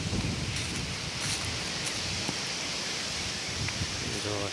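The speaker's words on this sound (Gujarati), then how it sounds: "વરસાદ અંધાર્યો છે" Steady rain during a windstorm that has torn roofing off a farmhouse, a dense unbroken wash of noise close by with faint gusty rustling throughout and no clear thunderclaps.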